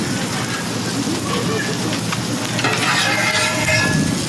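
Steady, loud sizzling of food cooking on a dry Blackstone griddle without oil or butter, a continuous close hiss with faint scraping as pieces are moved around.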